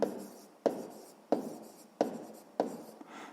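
A pen or pencil writes by hand during a sixth-grade math exercise, with five evenly spaced scratchy strokes, each starting with a sharp tap and trailing off, close and quiet with no talking.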